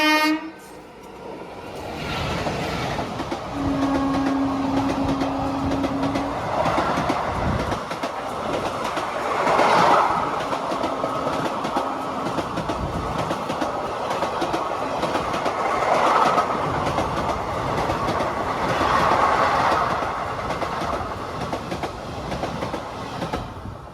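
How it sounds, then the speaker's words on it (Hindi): The Jhelum Express rolls past a small station with a sustained rumble and clattering of wagons, a long horn blast early on and further horn notes later, loud and close the whole time, with no talking. "तो ये जा रही है झेलम एक्सप्रेस"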